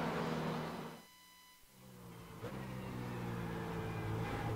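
A BMW race car engine at Mid-Ohio in iRacing drones steadily, drops off briefly as the revs fall and then climbs back up, sounding loud and close from the cockpit.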